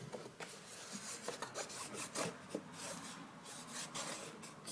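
An adhesive strip is burnished down with repeated firm rubbing and scraping strokes, close and fairly quiet, in an irregular back-and-forth rhythm.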